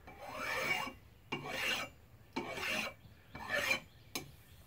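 Four slow back-and-forth strokes of a file rasp across the surface of a GMC/Chevy front differential part, close and fairly quiet, with short pauses between strokes and a final click.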